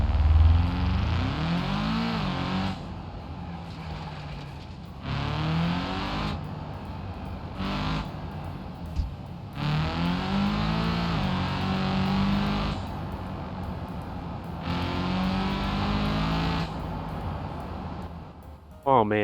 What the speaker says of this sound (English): I'm gonna actually be quiet so y'all can hear how this engine sounds here.